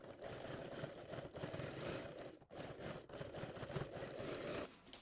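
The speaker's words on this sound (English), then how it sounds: "sew right on top of the crease line" Sewing machine stitching bias tape along the crease line of a quilted tote bag, a steady close motor whir with a continuous rapid stitching rhythm and a brief pause midway.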